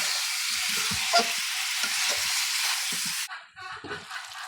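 Taro from the family's own field sizzles steadily in a pan of curry, with soft scraping stirs breaking through the hiss, before the frying quiets and turns patchier near the end.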